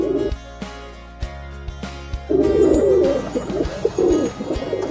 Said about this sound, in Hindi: दोस्तों ये कबूतर देखिए अभी गुटकना भी चालू कर दिया इसने।